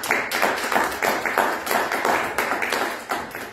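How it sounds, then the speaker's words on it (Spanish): Applause at a book presentation in Querétaro honouring a teacher: a small audience clapping nearby in uneven, rhythmic bursts that keep a steady pace throughout. "Un aplauso, por favor, para el maestro."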